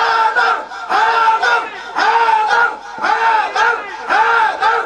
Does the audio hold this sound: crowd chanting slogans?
yes